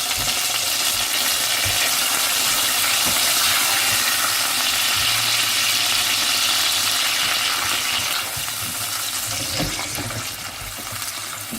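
Large tomatoes sizzling as they fry in a pan with cumin for bhindi masala, a steady loud close crackle with occasional stirring, no talk.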